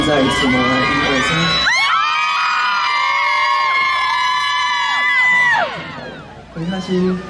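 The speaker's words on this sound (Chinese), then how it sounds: "戴耳机听不到你们的尖叫声， 可以全部再一次吗？" A large audience at an outdoor New Year's Eve concert at Taipei City Hall screams and cheers loudly for several seconds. Piercing high-pitched shrieks and whoops blend into a sustained roar that then fades into scattered shouts.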